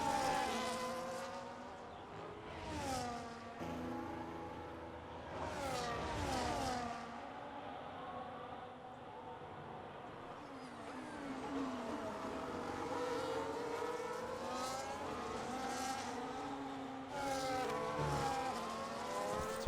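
Race car engines in an F1 racing video game at a Brazil Grand Prix, with Ferrari-powered cars trailing a Mercedes as whining, buzzing engines rise and fall in pitch while passing, steady and moderately loud throughout.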